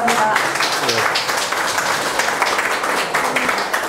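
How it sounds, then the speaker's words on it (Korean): Audience at a Dobong future forum in Korea claps to welcome a council member to the podium, a busy wash of applause with a few voices mixed in, fairly loud and continuous throughout. "오기영 의원님 앞으로 나와주시면 큰 박수로 맞아주시기 바랍니다."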